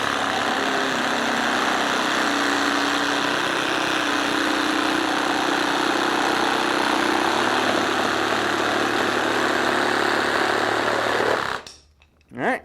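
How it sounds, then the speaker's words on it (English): A jigsaw cutting a curve through material, a loud continuous motor whine with a rough buzzing blade that runs steadily for about eleven seconds, then stops abruptly, followed by a brief clunk. "you can see I was able to make a nice little curve in there using the jigsaw"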